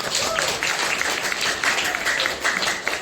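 Students in an Indonesian classroom applaud a group after its presentation, a brisk, even patter of many hands that holds steady for a few seconds before fading slightly.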